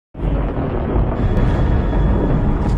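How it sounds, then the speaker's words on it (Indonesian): Deep thunder rolling across the sky in the film Prey, a loud continuous low rumble that starts abruptly and sustains throughout. "dia dikejutkan dengan suara awan menggelegar di langit"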